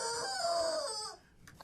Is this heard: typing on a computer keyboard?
no